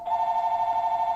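A telephone rings with a steady electronic warble, loud and close, sustained throughout with a fast pulsing tremolo and no voices.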